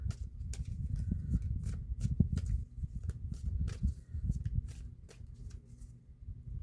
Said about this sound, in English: So I stopped shuffling